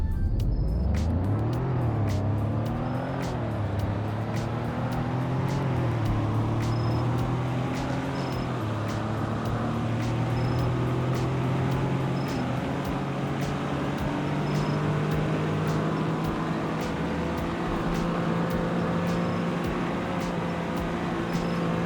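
A front-wheel-drive car with a V6 and an automatic gearbox accelerates hard during a top-speed test, its engine droning loud and steady as it climbs through gear changes, with wind and road noise building throughout.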